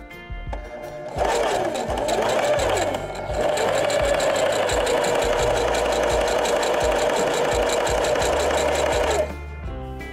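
A sewing machine stitches down the folded hem of a fabric grocery shopping bag, a loud, close, steady mechanical whir and rapid needle clatter lasting about eight seconds, with quieter handling noise before and after.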